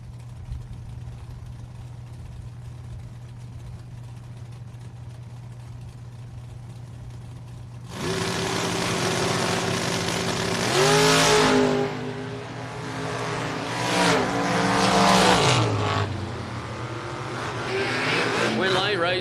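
Drag race cars, a Camaro Roadster against a step-side Chevrolet S10, launch hard after a quiet stretch, engines roaring and revving loudly with shifting pitch over crowd noise and announcer talk.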